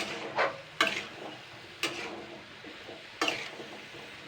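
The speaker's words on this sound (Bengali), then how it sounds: "এবারে আমি যা যা উপকরণ নিয়েছি এগুলো সব আমি এই শুকনো অবস্থায় দু মিনিট মতন হালকা ভেজে নেব" Potato samosa filling is stir-fried dry in a pan with a soft sizzle and repeated sharp scrapes and knocks of a spatula against the pan, spaced about a second apart.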